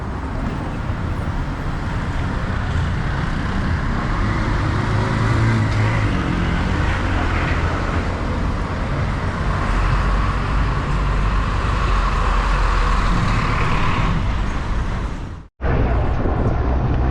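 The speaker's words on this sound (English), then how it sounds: "be careful whenever you're crossing the streets here because you get a lot of traffic" Dense street traffic in Chimaltenango, Guatemala's highlands: a loud continuous roar of cars, buses and engines passing close by, steady throughout with a brief cut near the end.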